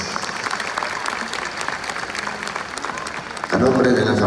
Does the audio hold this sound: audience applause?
yes